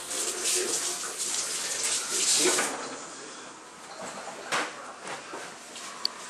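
Hands being washed under a running kitchen tap, a steady rush of water splashing for a few seconds, then quieter trickling with a few light knocks and a sharp click near the end, close by.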